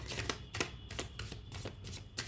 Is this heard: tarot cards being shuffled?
yes